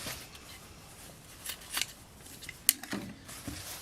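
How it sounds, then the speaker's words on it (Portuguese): Scissors trim excess fabric beside the seam of a sewn backpack, a few quiet, sparse snips and crisp cuts close by in a still room. "eu costurei e aí eu posso cortar o excesso"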